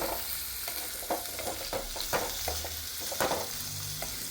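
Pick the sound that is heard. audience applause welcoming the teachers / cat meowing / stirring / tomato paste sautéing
stirring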